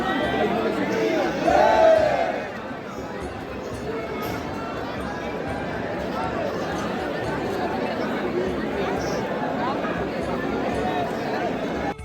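Dense crowd at the main gate of the Khatu Shyam temple, pushing and jostling, a continuous loud babble of many voices with a brief louder burst of shouting near the start.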